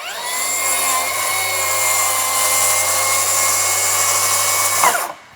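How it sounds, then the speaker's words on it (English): A plunge saw whines steadily as it cuts along a marked line in a garage workshop, holding a loud, even pitch for about five seconds before spinning down and stopping. "You just line up that saw cut."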